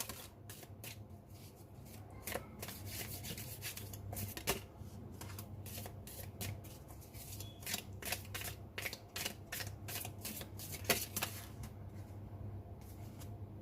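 A deck of tarot cards being shuffled by hand, a steady run of soft papery riffles and flicks with short crisp snaps, close and fairly quiet over a low constant hum, with no talking.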